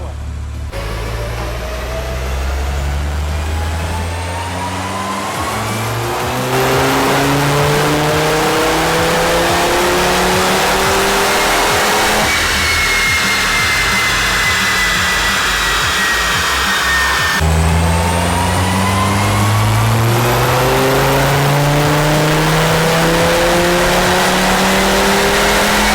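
A Mk6 Golf R with a swapped RS engine on a dyno power run with exhaust valves open, loud and close, revving up through the gears in rising sweeps with brief shift breaks, engine alone.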